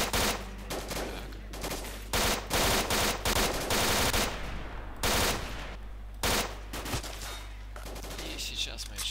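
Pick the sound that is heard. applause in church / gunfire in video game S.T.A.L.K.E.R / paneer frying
gunfire in video game S.T.A.L.K.E.R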